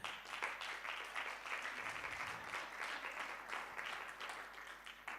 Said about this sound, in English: I think she deserves also a round of applause